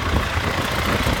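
A farm tractor idles near the manure spreader, a steady low-pitched diesel rumble that holds constant and close, with no talk.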